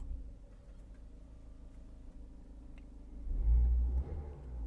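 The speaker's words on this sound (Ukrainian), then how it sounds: "Запустимо двигун." An Opel Zafira B 1.8 engine with 221,000 km turns over and catches about three seconds in, rising into a low, steady idle rumble after a quiet stretch.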